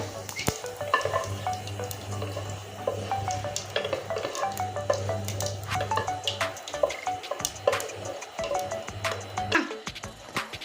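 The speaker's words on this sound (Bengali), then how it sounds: "ফোড়নে দিয়ে দিচ্ছি জিরে ফোড়ন এবার ফরমটা লাল করে ভেজে নেব" Cumin seeds crackle and sizzle in hot oil for a Bengali tempering, with a steady close frying hiss broken by scattered pops and small utensil clinks.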